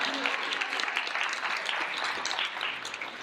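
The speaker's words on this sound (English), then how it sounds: "Give her a round of applause." A conference audience applauds during a leadership keynote address, dense, sustained clapping from many hands filling the hall at an even level throughout.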